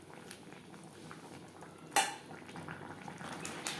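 Bottle gourd being stirred in a cooking pot for a Bengali lau chingri dish, with a soft continuous bubbling simmer, faint scrapes and clinks of the utensil, and one sharper metallic knock near the middle.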